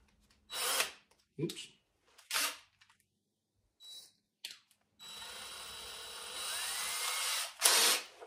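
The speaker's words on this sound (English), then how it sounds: "right now when I drill this hole" A power drill boring a small hole in curly cherry wood, several short whirring bursts followed by a longer continuous run, close up in a quiet workshop.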